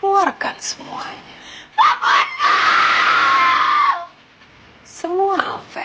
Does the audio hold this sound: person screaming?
yes